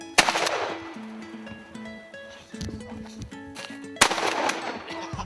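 Shotgun blasts during a Wyoming turkey hunt outdoors: one sharp shot near the start and a second loud shot about four seconds later, with faint birdsong and rustling in between.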